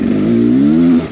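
A two-stroke dirt bike engine gives a brief, loud, close rev that climbs slightly in pitch and then drops off, lasting about a second.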